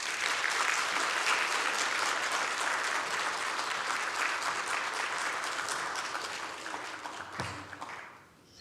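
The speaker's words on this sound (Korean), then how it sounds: "우리 박수로 맞이하겠습니다" A church congregation at a Sunday evening service claps to welcome the preacher, with loud, sustained applause from a crowd that holds steady and then tapers off at the end.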